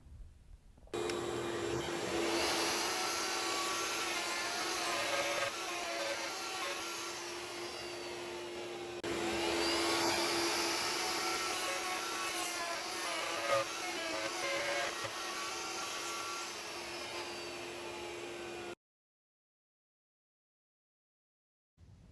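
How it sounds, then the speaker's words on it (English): A bandsaw cutting and shaping the wooden handles of a butler's tray, a steady whining machine drone with a brief dip partway through, heard nearby before it cuts off to silence near the end. "Here I'm shaping the handles on the bandsaw after I have the opening cut."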